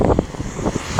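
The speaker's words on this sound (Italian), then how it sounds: "C'è un vento, cazzo, non potete capire." Strong wind buffeting the microphone outdoors among houses, giving a continuous loud rumble with gusty thumps and bursts.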